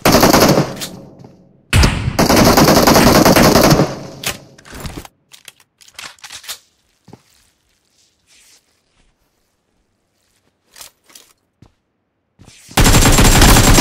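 Gunfire in a mobile shooter video game: loud, dense bursts of rapid automatic fire in two long stretches, with a few scattered single shots and quiet gaps between, then another sustained burst at the end.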